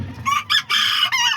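Azteca and Serama chickens with a rooster, a close, loud burst of several short clucking and crowing calls in quick succession with brief gaps between them.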